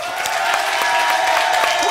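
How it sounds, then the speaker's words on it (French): A comedy-club audience at a French stand-up show bursts into sustained applause, a dense, steady wash of many hands clapping at an even level with some crowd noise mixed in. "Vous applaudissez au moins 10 secondes, ok? 10 secondes d'applaudissement."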